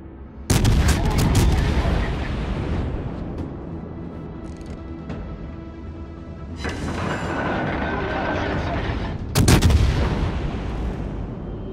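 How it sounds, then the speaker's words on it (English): Artillery in a video game strikes a target: two loud, close booms with a sharp crack and long rumbling decay, separated by sustained battle din and a distant, faint voice. "Requesting fire on the designated target."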